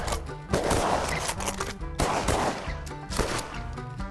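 Several loud shotgun blasts in quick succession during a duck hunt in Michif country, close by and booming, with no talk.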